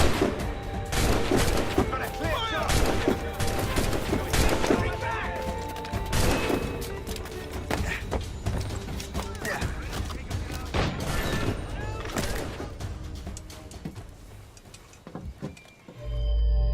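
Ship cannons fire in Assassin's Creed Rogue during a naval battle, a sustained rolling barrage of booms and cracks layered over music and game noise, loud throughout, with voices shouting orders.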